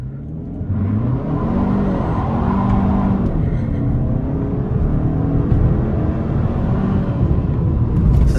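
A 2025 Kia K5 GT sedan in sport mode with traction control partly engaged, its engine rumbling and revving as it accelerates. The loud, steady drone builds with rising engine tones and carries on for several seconds with no talk.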